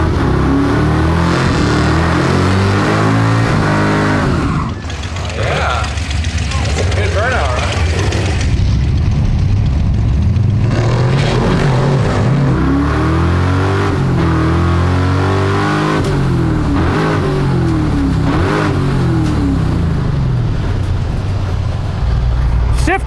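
A Chevy Nova with a 327 engine, 4-speed manual and Cal tracks launches, its engine roaring loud and close through rising revs and gear changes for over twenty seconds, with voices faintly under it.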